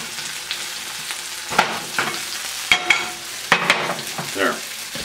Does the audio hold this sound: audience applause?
no